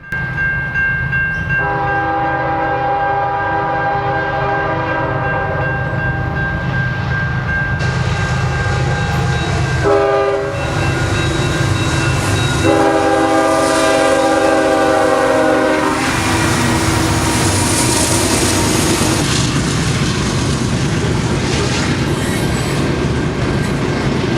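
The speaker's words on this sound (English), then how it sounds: "Sand loads roar up the grade through Rudolph on a pleasant afternoon." A loaded sand freight train roars up a grade through Rudolph, its horn sounding in several long blasts over the loud, continuous rumble and clatter of wheels.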